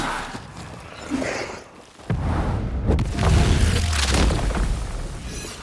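A gunshot strikes a lantern in the game Banishers: Ghosts of New Eden, a sudden deep boom followed by a rumbling, crashing wash that lingers loudly through the rest of the moment.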